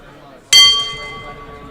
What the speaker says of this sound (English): The dinner gong has gonged